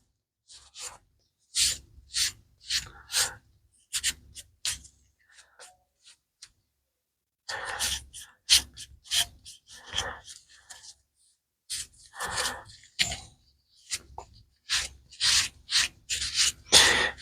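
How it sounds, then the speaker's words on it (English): A rag wipes navy blue stain off wood in bursts of brisk rubbing strokes, close and fairly loud, separated by short pauses. "I'll take my rag and I'll just start wiping it off."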